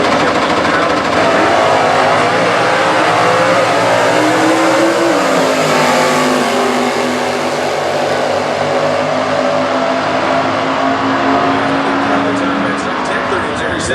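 Stock Eliminator drag car with a 396 engine at the US Nationals, a loud continuous engine roar with rising pitch as it launches and pulls away, under an announcer talking over the track.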